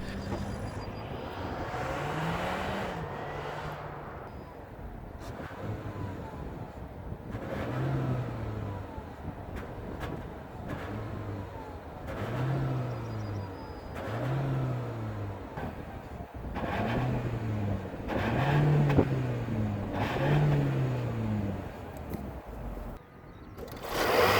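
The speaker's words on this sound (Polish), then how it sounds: "z silnika, który jak się przyspiesza, to bardziej wyje niż ładnie pracuje" A Peugeot 508 PSE 1.6 plug-in hybrid engine howls under acceleration, several rising revving sweeps climbing in pitch and then dropping between gear shifts, heard close and steady from inside the car with no talking.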